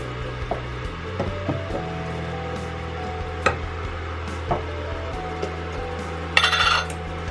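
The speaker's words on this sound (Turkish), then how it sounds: "Kırmızı biberimi de ilave ettikten sonra bir güzel karıştırıyorum." A spoon stirs chicken soup with thin vermicelli and red pepper in a pot, giving soft scraping with occasional sharp clinks against the rim over a low steady background hum, and no speech.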